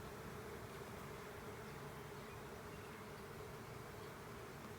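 A steady, close buzzing of many honey bees around a hive frame during an inspection, continuous and even throughout with no voices.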